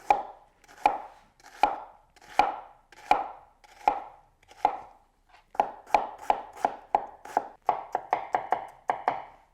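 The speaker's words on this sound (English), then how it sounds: "let's try cutting this onion" Onion being chopped with a thick-bladed Coolina cleaver-type knife on a board: a steady series of sharp knife strikes, slow and evenly spaced at first, then quicker and closer together, close and clear with no talk.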